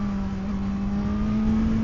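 Suzuki GSX-R1000R (2026) sport motorcycle engine droning steadily while ridden slowly, a constant close hum with a strong low tone and no speech.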